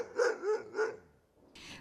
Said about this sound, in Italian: i due cani che abbaiano